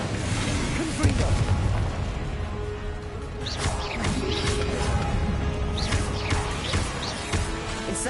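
Confringo spell explosions in Hogwarts Legacy, a dense barrage of booms, crashes and rumbling impacts layered over continuous combat noise, with loud, steady intensity throughout.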